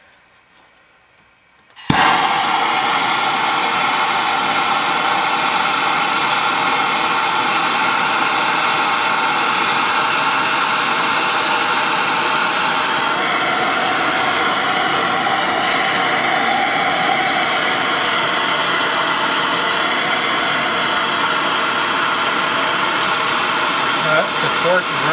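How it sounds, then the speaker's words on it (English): A fuel torch roars loudly and steadily after a sudden ignition, melting pewter, its harsh blast holding unbroken at close range with slight shifts in tone partway through. "The torch is running out of fuel."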